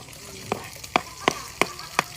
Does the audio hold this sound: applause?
no